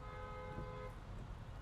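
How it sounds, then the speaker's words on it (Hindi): A car horn honks in busy road traffic, one steady tone lasting about a second over a constant rumble of engines and street noise. "हॉर्न क्यों दिया गया है, किस लिए दिया गया है, कुछ नहीं पता."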